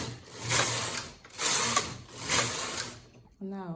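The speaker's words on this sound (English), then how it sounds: "then we can turn off our knitting machine and knit a few rows of plain knitting" Brother knitting machine carriage knitting plain rows, three sweeping mechanical passes with whirring, clicking bursts, then a brief voice at the end.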